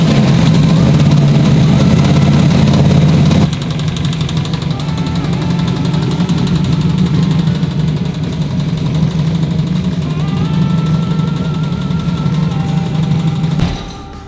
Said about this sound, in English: it sounds like there's a bolt in the motor or something. Like a bolt banging around in there.